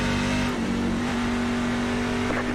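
Simulated NASCAR stock car in iRacing at Atlanta, its engine droning steadily at high revs with a strong sustained tone, near and loud throughout with no pause.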